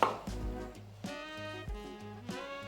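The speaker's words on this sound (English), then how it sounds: "we're going to just slice through the belly and pin bone joint" A knife slicing through the belly and pin bone joint of a whole sea bass on a cutting board, several distinct firm taps in an uneven rhythm over quiet ringing background tones, close and clear.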